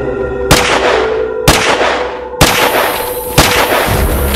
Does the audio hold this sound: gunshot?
yes